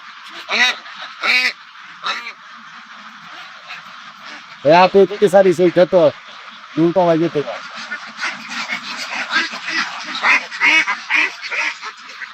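Layer ducks quack in repeated loud bursts during a duck plague vaccination session, with honking calls clustered near the middle and continual farmyard bird chatter running throughout.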